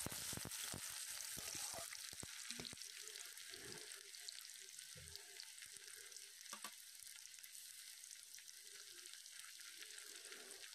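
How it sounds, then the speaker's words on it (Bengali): Chopped onions fry in oil in a wok, a soft, steady sizzle with occasional clinks and scrapes of stirring, quiet and close with no talk. "পেঁয়াজ ও রসুনটাকে কিছু সময় ভালোভাবে ভেজে নিতে হবে"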